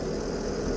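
A Porsche Panamera 4S with a naturally aspirated 4.8-litre V8 idles nearby, a steady low rumble with a faint even pulse, heard alone for a brief moment.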